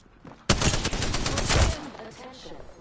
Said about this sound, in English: The bad boys are shooting at me